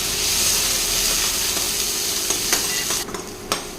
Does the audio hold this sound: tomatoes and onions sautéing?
yes